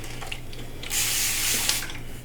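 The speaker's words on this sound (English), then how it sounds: "I'm going to put a little more water right here." Water spritzed onto hair from a spray bottle in a steady hiss lasting about a second, close and fairly loud, with quiet room noise before and after.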